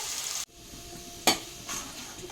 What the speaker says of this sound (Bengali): তো দেখো আলুগুলো মোটামুটি আমার ভালো করে ফ্রাই করা হয়ে গেছে